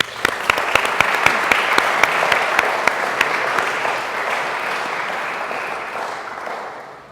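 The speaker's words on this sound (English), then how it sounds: "A round of applause, please, for all of our candidates." Applause from the audience at a Croydon North election debate in a school setting, with dense clapping and a few distinct sharp claps standing out early before the sound gradually thins and fades away.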